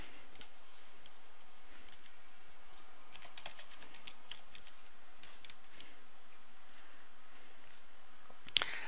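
Faint, quick keystrokes on a computer keyboard while a forum admin username is entered, light irregular clicks in short bursts over a quiet room, with one sharper tap near the end.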